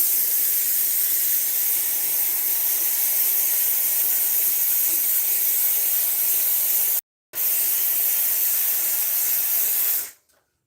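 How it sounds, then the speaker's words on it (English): A handheld steamer defrosting a Frigidaire refrigerator with a defrost problem, a loud, steady close hiss that cuts out for a split second, resumes, then stops near the end. "By the way, this is my new steamer."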